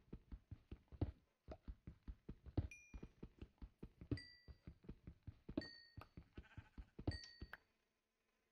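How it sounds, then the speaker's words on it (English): Sheep bleats in Minecraft at night near a big cave system, sharp repeated blocky cries coming in a quick irregular series, close and clear, with a few short tonal chimes mixed in and no talking. "Heard that sheep."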